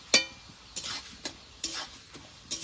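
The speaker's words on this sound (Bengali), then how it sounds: "মুগ ডালগুলো দিয়ে দিয়েছি, এবার নেড়ে চেড়ে একটু ভেজে নেব।" Mung dal being stirred and fried in oil in a pan, with a sharp scrape followed by several lighter spoon strokes at irregular intervals over a soft, quiet sizzle, close by and with no talk.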